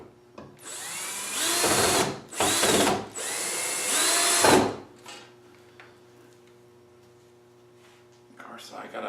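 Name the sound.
power drill drilling wood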